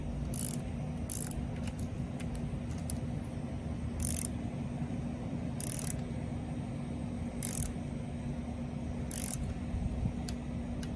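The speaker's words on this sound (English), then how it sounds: "Torque wrench just clicked there." A torque wrench clicks as it tightens the front stem bolt to 10 Newton meters on a Gazelle Ultimate C8 e-bike's steering. Sharp, close clicks repeat at irregular intervals over a steady low hum.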